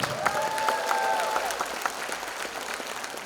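An audience applauds a pipe band at a multicultural performance, a continuous spread of clapping with a faint tonal drone lingering early on.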